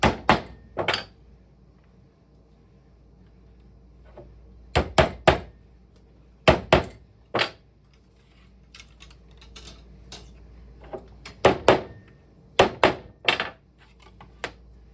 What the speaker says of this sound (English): Sometimes if a peg sticks out a little too far out of a surface, just because it was miscut, I take a metal hammer